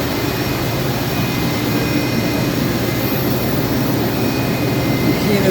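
Mori Seiki SV-503 CNC vertical machining center from 2001, with a Tsudakoma 4th axis and a 10,000 RPM spindle, running under power: a steady, loud, broadband whirring hum with no breaks.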